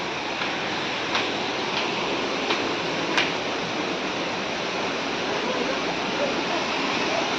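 A waterfall beside Chatikana Siva temple at the foot of the Niyamgiri hills pours steadily, a constant broadband rush of falling water with no breaks and a few faint clicks on top.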